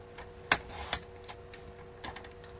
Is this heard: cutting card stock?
yes